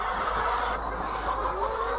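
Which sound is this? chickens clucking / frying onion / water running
chickens clucking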